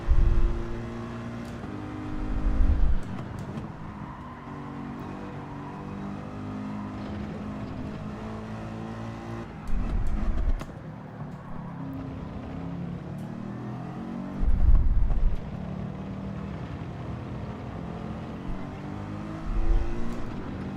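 GT3 race car engines roar in Gran Turismo during a championship round at Interlagos, a continuous high revving drone with rising and falling pitch as gears shift, punctuated by several louder surges from nearby cars.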